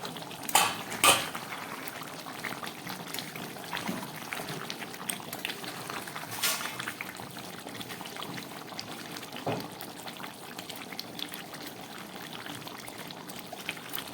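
Steady bubbling of a covered pot of chicken curry with potatoes as the lid comes off, a couple of sharp metallic clinks near the start, continuous close simmering throughout.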